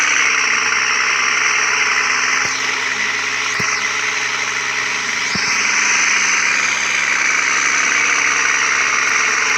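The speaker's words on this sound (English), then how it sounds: "They changed the engine sound." A car engine idles in an off-road driving video game, a loud, steady synthetic drone that holds throughout with a few faint clicks and no talk.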